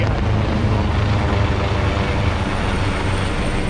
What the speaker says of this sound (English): As it's the rescue helicopter comes over top.